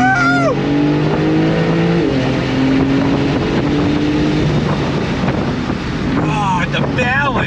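A Porsche 911 Turbo convertible roars loudly as it accelerates hard, its rising engine tone shifting through gears before easing off under braking, with heavy wind rush throughout.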